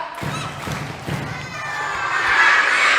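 Children at a Ramadan storytelling session in a mosque clap three times in unison: three quick, thudding claps close together, then a rising swell of excited young voices and crowd noise.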